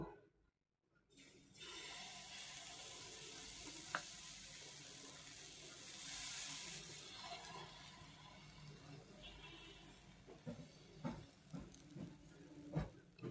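Batter poured onto a hot oiled pan while making a homemade tiffin snack, giving a steady hissing sizzle through most of the stretch, with a few sharp clicks and taps near the end.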